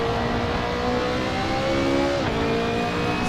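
Race car engine in the driving game Assetto Corsa, a loud sustained whine that climbs in pitch, drops sharply at a gear change, then climbs again on a training lap, with no voices over it.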